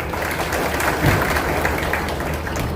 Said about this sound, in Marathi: तुम्ही स्वतः जोरदार टाळ्या वाजवाव्यात